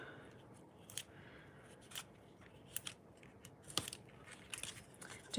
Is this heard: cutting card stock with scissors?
yes